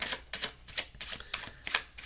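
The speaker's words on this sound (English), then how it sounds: "and then I do a false shuffle" Playing cards riffled in a false shuffle during a card trick, a run of crisp, rapid papery flutters in quick bursts, close and fairly quiet with no talking.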